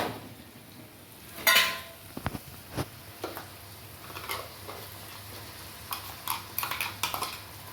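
Ground masala is stirred into fried onions and tomatoes in a pan for a Tirunelveli-style mutton lung gravy, with sharp metallic clanks and scrapes of a spoon over a faint sizzle, coming in irregular bursts.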